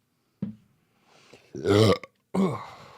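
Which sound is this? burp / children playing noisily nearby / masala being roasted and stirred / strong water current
burp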